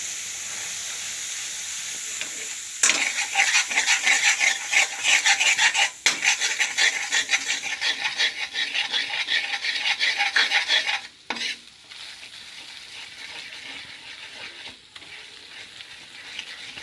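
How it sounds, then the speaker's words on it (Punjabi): Gram flour (besan) roasting in hot ghee with steady stirring, a continuous soft sizzle and scraping rasp that grows busier after a few seconds, pauses briefly, then settles quieter toward the end, with no talking. "ਘਿਓ ਆਪਣਾ ਗਰਮ ਇਹਦੇ ਵਿੱਚ ਬੇਸਨ ਨੂੰ ਭੁੰਨ ਲਾਂਗੇ"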